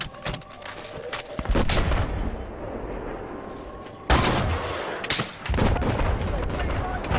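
Heavy anti-tank weapon fire in Battlefield 4 on the Golmud map: booming blasts with rumbling tails, two main loud impacts separated by a quieter stretch, plus scattered gunfire in the mix.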